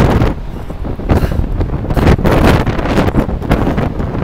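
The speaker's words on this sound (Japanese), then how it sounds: "風が強い" Strong wind buffets the corner of the observation deck on the Sunflower ferry from Osaka Nanko to Beppu, a loud continuous roaring gust battering the microphone with rumbling surges.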